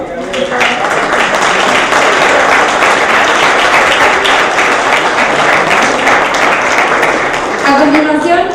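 A large crowd applauds steadily and loudly throughout at the close of a panel discussion, a dense wash of clapping with a voice briefly audible near the end.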